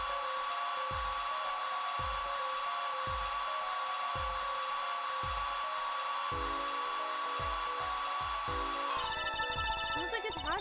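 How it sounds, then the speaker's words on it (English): Steady whine of a hairdryer drying plaster into a shoe-print cast in the Apollo Justice Ace Attorney video game, a continuous buzzing drone over a repeating low thumping rhythm from game music, ending in a burst of chiming effects. "Just press space to plaster it with a hairdryer."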